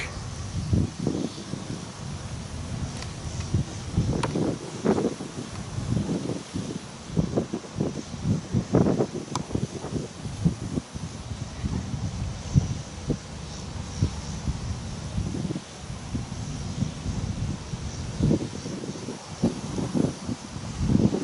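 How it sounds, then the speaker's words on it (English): Gusty wind in Fairbury, Nebraska buffets the microphone in rumbling bursts throughout, with a constant hiss of outdoor air behind it. "A little windy today, guys."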